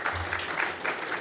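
An audience at a Sydney Mining Club event applauds to welcome a speaker, a steady, dense clapping that holds evenly throughout the short moment.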